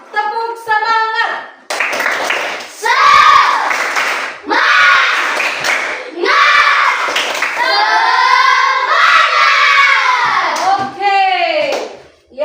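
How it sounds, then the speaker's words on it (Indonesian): A class of children performs a rhythmic spirit clap in a classroom, claps interleaved with loud chanted young voices in bursts across the whole stretch, ending abruptly. "Kita akan tepuk semangat."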